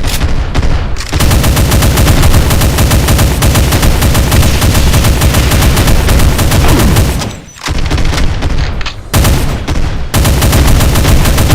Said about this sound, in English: It includes the explosive miniguns